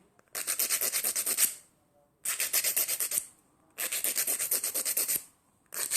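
A hand file scrapes back and forth over a fingernail being shaped into a Russian almond form, in three bursts of rapid, even rasping strokes separated by short pauses, close and crisp with no talking.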